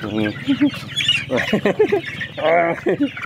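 Backyard chickens cluck and squawk in short, repeated bursts close by, mixed in with someone talking throughout.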